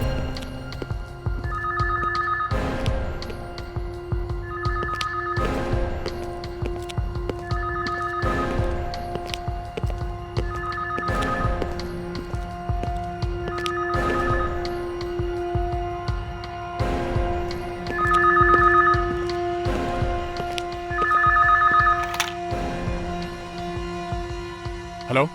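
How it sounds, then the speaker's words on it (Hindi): A telephone rings in repeated double trills at a steady pace over a low background bed of music or ambience. "फोन कहाँ बज रहा है?"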